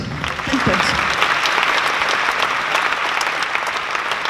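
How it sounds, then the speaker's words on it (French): Loud, dense applause fills a festival hall as an audience cheers the Penpot team, continuous and close, with a brief murmur of voices at the start. "je vous prie d'applaudir l'équipe de Penpot"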